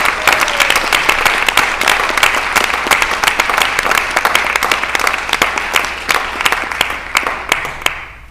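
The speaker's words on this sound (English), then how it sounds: "Please join me in offering them a round of applause" A room of attendees at a school board meeting breaks into a round of applause, with close, crisp individual claps over a steady crowd wash that fades out toward the end.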